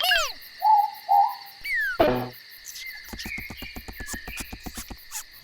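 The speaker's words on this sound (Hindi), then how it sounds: "ये रूरू है। वो तो उल्लू है।" A cartoon ruru owl, or morepork, calls at night with a few short hooting notes near the start. Sharp chirps, a thud and a fast, regular clicking insect-like rhythm follow against a steady high nighttime hum.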